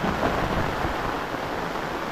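Heavy rain pours down on tomato plants in a garden, a dense, steady roar without pause and no voices.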